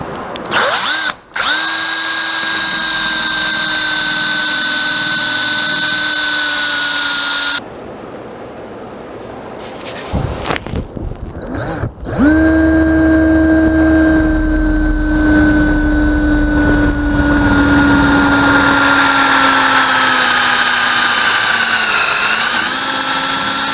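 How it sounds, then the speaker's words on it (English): A power drill bores holes into a Lexan sheet, a loud steady high whine in long runs with a brief stop and a short stuttering restart in between, no talking. "What I got to do is put a couple of holes in the Lexan"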